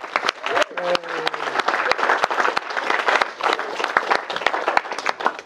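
Wedding guests applaud during the reception speeches, a steady room-filling burst of clapping that runs throughout, with a brief spoken voice near the start.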